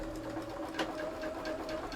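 Domestic sewing machine stitching quilting fabric for a mock log block, a quiet, even whirring hum for two seconds with no talking.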